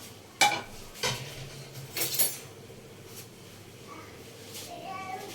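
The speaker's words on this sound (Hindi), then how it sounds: "मैं अब आपको इसको तोड़ के दिखाती हूँ चम्मच के साथ" A metal spoon clinks and scrapes against a dish while breaking apart cooked chicken karela, several sharp taps in the first few seconds and then softer handling.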